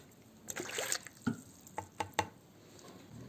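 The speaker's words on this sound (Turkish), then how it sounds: "İki buçuk su bardağı ılık su kullanacağım." Lukewarm water poured into a bowl for Ramadan pide dough in a home kitchen, a soft liquid splash followed by several distinct drips and trickles, close and fairly quiet with no talk.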